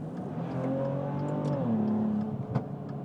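A Maserati Levante with a twin-turbo V6 petrol engine revs up in a rising, then falling tone, with a sharp exhaust pop near the end, heard close without talk.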